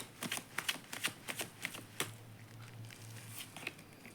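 Tarot cards being shuffled and drawn by hand, a quick run of papery flicks and snaps in an irregular rhythm, close and fairly quiet, with no talking.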